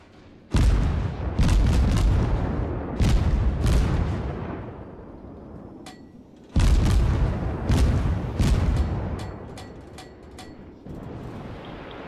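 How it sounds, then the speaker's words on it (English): Naval guns fire in World of Warships in a chain of heavy booms, several salvos in quick bursts, each followed by a rumbling decay, loud and close with no talk. "A lot of people shooting a lot at him."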